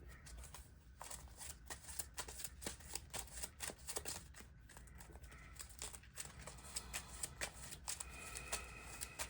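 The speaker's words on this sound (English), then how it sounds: "shuffle the Adaptoid back into the deck" Marvel Champions cards being shuffled back into a deck, a faint run of quick riffling and flicking taps with a brief pause partway through, close and quiet with no talking.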